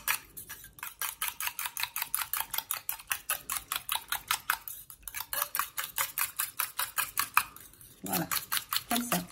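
Homemade body slimming lotion is stirred in a container, producing a quick, steady run of clinking, scraping strokes that repeat several times a second with a couple of brief pauses.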